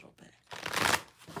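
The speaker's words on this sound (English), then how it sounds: "I'll shuffle this a little bit." Tarot cards riffled and shuffled by hand in a brief, close burst of papery flutter, rising and fading within a second or two.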